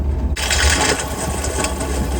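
A 1943 Dodge Weapons Carrier engine idles steadily and close by, a low rumbling drone with a rattly mechanical clatter on top, running without a break.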